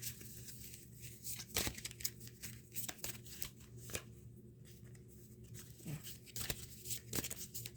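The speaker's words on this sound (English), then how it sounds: "Let me know when I should stop shuffling." A deck of tarot cards is shuffled by hand in repeated riffling, slapping bursts with soft crisp rustling between them, close and fairly quiet.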